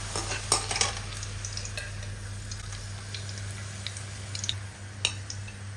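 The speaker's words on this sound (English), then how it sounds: "When the oil is nice and hot, let's add in the onions." Onions frying in a cup of hot cooking oil for a chicken curry, giving a steady close sizzle with scattered brief clicks and stirring knocks throughout, no voices.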